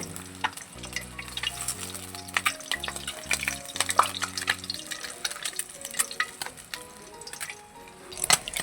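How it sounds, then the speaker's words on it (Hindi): Three eggs fry in oil in a pan while being cooked for restaurant-style chicken chow mein, giving a steady close sizzle with scattered sharp spatters and scraping utensil taps. A low humming tone sits under the first half. "तीनों के तीनों अंडे हमारे फ्राई हो गए। अब हम इसको निकाल रहे हैं।"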